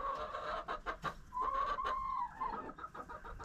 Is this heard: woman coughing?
no